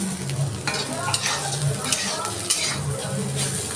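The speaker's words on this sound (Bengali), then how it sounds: "আমি একটু লাল লাল করে ভেজেছি" Bitter gourd frying in an iron wok, a steady close sizzle broken by repeated scraping and clinking of a spatula stirring against the metal.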